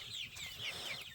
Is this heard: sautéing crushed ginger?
no